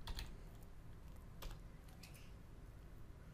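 Quick clatter of keys on a computer keyboard as a short math expression is typed, a burst of taps at the start, another around the middle and a few more near the end, fairly quiet and close with no talk.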